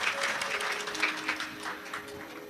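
An audience at a live Shiv Mahapuran katha claps to welcome the hosts, a moderate burst of scattered applause that gradually thins out.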